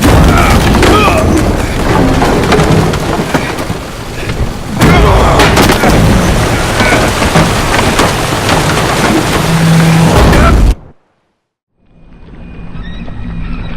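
Heavy rain and wind of a storm at sea in the video game The Witcher 3 roar loudly with booming crashes, cutting abruptly to silence before a fainter ambience returns.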